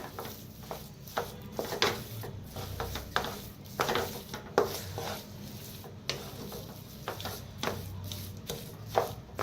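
Coriander being stirred into a potato vada pav filling in a pan, with steady scraping and tapping of a spoon against the pan in an irregular rhythm, close and moderately loud, with no talking.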